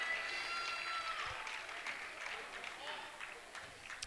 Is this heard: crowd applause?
yes